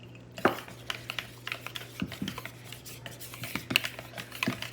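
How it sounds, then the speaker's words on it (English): Sweet and sour sauce whisked in a bowl: quick, irregular clicks and taps of the whisk against the sides, fairly close, continuing steadily with no voices. "once I get it whisked"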